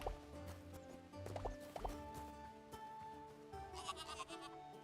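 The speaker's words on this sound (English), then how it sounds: "Sheep, but not quite the sheep that I need." Sheep bleat in a video game, a few faint wavering calls over quiet ambient game music and soft dripping sounds.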